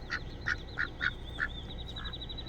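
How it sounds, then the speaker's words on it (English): Several ducks, younger juveniles in a flock, give a run of short quacks spaced about every half second, fairly close, with a steady high chirping bird call running behind them. "I think the younger ducks. I think the juveniles."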